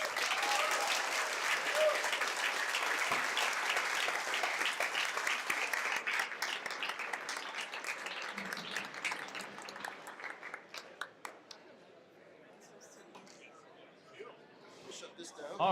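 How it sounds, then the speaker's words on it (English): Audience applause at a live astronomy talk in a bar, a dense sustained clapping from a crowd that gradually thins and fades toward the end, with some talk mixed in. "Let's give him another big round of applause"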